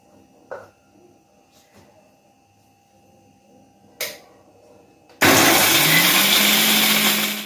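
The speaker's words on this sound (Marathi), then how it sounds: "आता मी ना हे बारीक करून घेते एकाच भांड्यामध्ये मिक्सरमध्ये" After quiet with a couple of faint knocks, a mixer grinder suddenly starts grinding makhana and dry fruits, running loudly for about two seconds, a harsh steady whirring roar.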